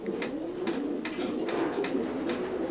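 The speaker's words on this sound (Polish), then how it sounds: "Gołąb gotowy do parowania." A racing pigeon coos close by, giving a rhythmic series of soft, throaty coos, about seven in a row, with no talking over them.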